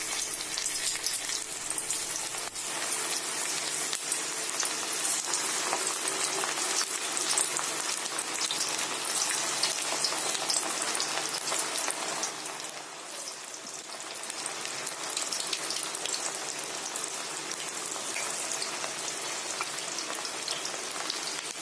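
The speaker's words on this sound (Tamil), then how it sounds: "எண்ணெய் சூடு வந்ததும் இதை ஒன்று ஒன்றா எண்ணெயில் போட்டுக்கோங்க" Cabbage and peanut patties deep-fry in hot oil, a dense, rain-like crackling sizzle that holds steady and close throughout, easing slightly partway, with no talk.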